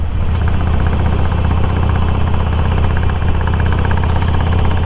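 A 2019 custom motorcycle engine idling close by, a steady, even low rumble with a fine regular pulse and no speech over it.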